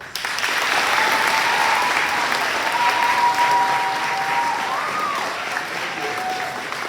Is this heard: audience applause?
yes